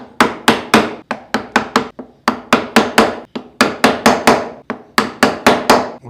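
Wood carving with a chisel struck by a mallet, marking an outline a few millimetres deep: loud, sharp, evenly spaced knocks in quick bursts, close and alone.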